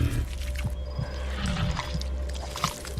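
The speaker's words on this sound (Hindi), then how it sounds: "उसकी जीभ से खून टपक रहा है।" Liquid trickles and drips as a horror-scene blood-dripping effect, steady and fairly quiet, set over a low, dark rumbling drone with a few soft splashy accents.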